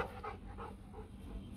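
Two large Rottweilers play together with low, rumbling growls and panting, a soft, close, continuous sound with no talking.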